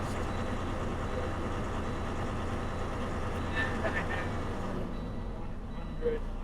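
A truck engine idles steadily at close range during an air brake inspection, a dense low rumble running throughout before dropping away near the end, with faint voice-like sounds on top.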